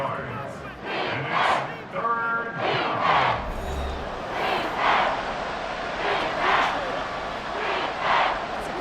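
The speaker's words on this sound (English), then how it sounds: "The Arrowhead crowd in full roar." Arrowhead stadium crowd roaring in Madden NFL 24 during a Miami Dolphins vs Kansas City Chiefs playoff game, a loud sustained roar swelling in waves with commentary voices over it.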